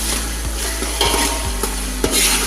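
Food fries in a pan before chicken goes in, a loud steady sizzle broken by a handful of close spatula scrapes and knocks at an irregular pace.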